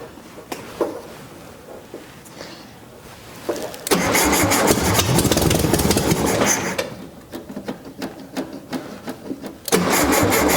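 1973 Volkswagen Beetle engine starting for the first time, with several cranking attempts and clicks before it catches and roars loudly for a few seconds, dies down, then cranks again, all close up and without speech.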